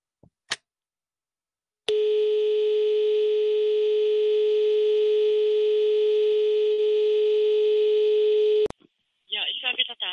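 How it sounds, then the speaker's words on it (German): A telephone line gives a steady, loud continuous dial tone for about seven seconds while a call is being redialed, framed by brief clicks and followed by a voice speaking. "das Telefon muss ich neu einwählen"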